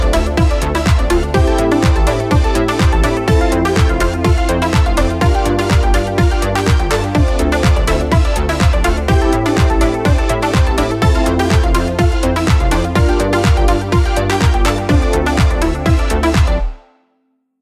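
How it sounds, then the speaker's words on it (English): A full demo song built in Sundog Song Studio plays loud and steady for about seventeen seconds, with a punchy repeating beat, chords, a bassline and a melody, then stops abruptly. "I want to show you how to use Sundog to build a song, including chords, bassline and melody."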